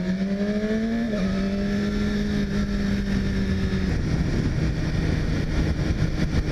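A 2017 BMW S1000RR sport motorcycle engine drones steadily while riding at low speed, with a clear downshift partway through dropping the pitch before it settles into a constant close, loud hum.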